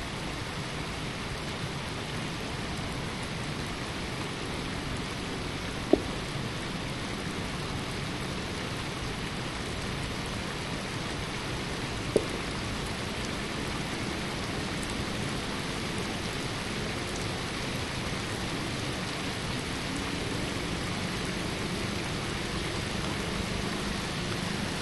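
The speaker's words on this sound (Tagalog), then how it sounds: "sinabutan pa ako ng ulan" Rain falls outdoors near a fish pond, a steady, even hiss of drops throughout with two faint brief ticks, no voices heard.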